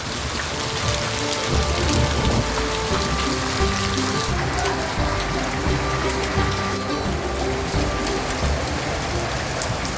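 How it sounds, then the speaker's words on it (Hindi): Heavy rain and hail pour down in a dense, loud roar in the hills, with a constant drumming of drops and hailstones striking surfaces nearby and no voices. "चारों ओर बस ओले ही ओले पड़ रहे हैं और तेज़ बारिश शुरू हो गई"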